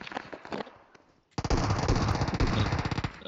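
Rapid automatic gunfire from the PUBG Mobile battle-royale game, a faint burst first, a brief lull, then a sustained loud stream of shots with dense, regular reports lasting to the end.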